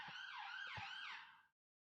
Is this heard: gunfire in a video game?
no